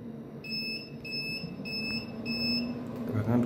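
A 2kW 24V inverter beeping as it powers on, four evenly spaced high electronic beeps over a low hum, followed by a short clatter, close and moderately loud.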